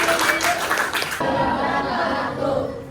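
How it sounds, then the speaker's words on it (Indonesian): Classroom applause for a student group about to present, a short burst of claps with chatter and light laughter from the pupils, dying down into room murmur. "Tepuk tangan untuk kelompok Devin"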